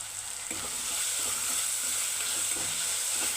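Green chilies and curry leaves, added with tomato, sizzle and fry steadily in a hot pan for a fish curry, a continuous close hiss with occasional soft stirring scrapes.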